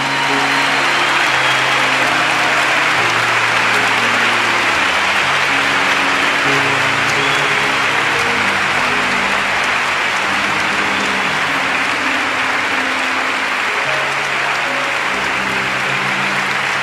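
A large audience rises in a standing ovation for a Catholic priest's talk, sustained loud, dense applause filling the hall for the whole stretch over a low musical backing, with no voices on top.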